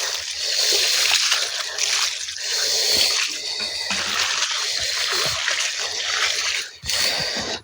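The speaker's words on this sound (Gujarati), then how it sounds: "આ રીતે દબાવ્યા પછી આપણે જરૂરી પાણી રેડવાનું હોય છે." Water is poured onto a newly planted kiwi plant in soil, making a continuous close splashing and sloshing sound that ebbs briefly near the end.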